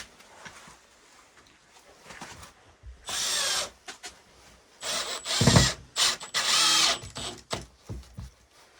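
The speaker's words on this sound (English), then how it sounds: "Now what we want to do is go down through the top with the shorter screws." Cordless drill driving short screws into a kayak storage rack, with three loud close whirring bursts of a second or so each, separated by quieter handling noise.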